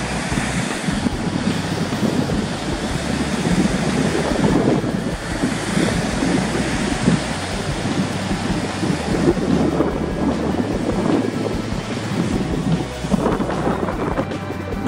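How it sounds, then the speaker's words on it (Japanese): Small knee-to-thigh high waves breaking on the Sea of Japan on a snowy, onshore-wind day, a continuous loud roar of surf and wind buffeting the microphone, with no talk. "待てばテイクオフできるんじゃないかなって感じの波が、膝もも程度の波が割れてます。"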